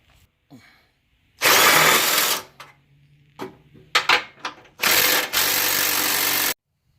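Several loud bursts of a power drill grinding through a 2013 Mustang's bumper, separated by short pauses and clicks, with no talking.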